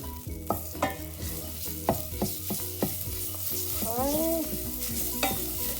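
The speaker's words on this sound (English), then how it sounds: "you just want to cook the curry paste until you start smelling the curry paste" Curry paste for peanut satay sauce frying and sizzling in a hot pan, with a steady crackle broken by repeated scrapes and knocks of stirring, close and fairly loud, with no voices.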